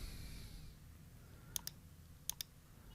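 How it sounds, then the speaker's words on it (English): A computer mouse clicks two quick double-clicks, crisp and close, over a quiet room hum, no talking. "click on OK, click on done"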